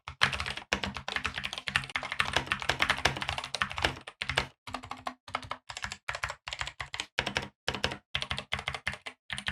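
Typing on a Keychron K8 wireless mechanical keyboard with an aluminum frame: a steady rapid clatter of key presses, then slower bursts of clicks broken by short pauses, close and fairly quiet.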